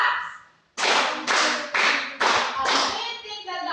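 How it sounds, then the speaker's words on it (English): A classroom of students claps five times in unison, each clap sharp and loud, with brief gaps between them. "Can you give them 5 claps?"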